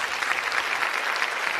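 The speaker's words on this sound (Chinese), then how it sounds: "希望大家掌声鼓励一下" A studio audience at a televised stand-up comedy show claps in a dense, steady wash of applause, loud and even throughout with no voices on top.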